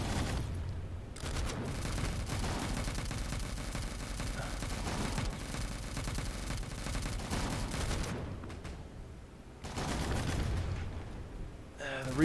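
Gunfire from weapons in the game M.A.V., a dense, continuous loud fusillade of rapid shots with brief pauses, heavy recoil implied, running under and around the player's talk.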